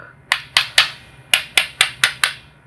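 A hammer strikes a stuck metal lock eight times in two quick bursts, three blows then five, each a sharp, close, ringing metallic knock with a short decay.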